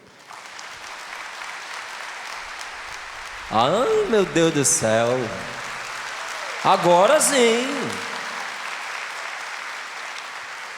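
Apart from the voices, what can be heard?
congregation applause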